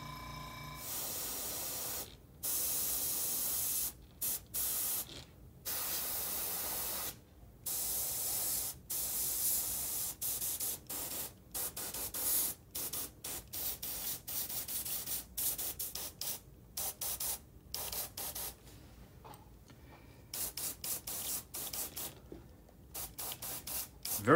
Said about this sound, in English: That's all we're going to do as far as spray, as far as airbrushing.